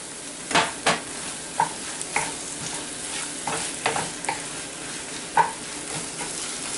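Mushrooms frying with red chili paste and green chili in a hot pan, a steady close sizzle broken by several sharp scrapes and clicks as a spoon stirs them, with no talking.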